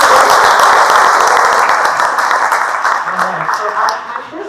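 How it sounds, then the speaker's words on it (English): An audience at a Bikes Not Bombs breakfast event claps for young apprentices, a dense, loud burst of applause that holds steady and then fades toward the end. "Clap it up for our young folks."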